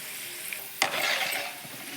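Raisins, cashews and cloves fry in hot oil with a soft steady sizzle, which swells into a sharp hiss and crackle partway through before settling back.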